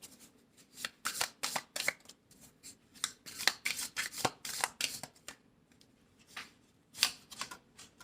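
A deck of tarot cards is shuffled in quick, crisp riffling bursts of papery flutter, close and fairly quiet, with short pauses between the bursts.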